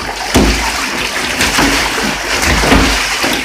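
A goose splashes and sloshes water repeatedly in a bathtub, close and fairly loud, with irregular bursts of splattering.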